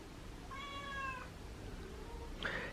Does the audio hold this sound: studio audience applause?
no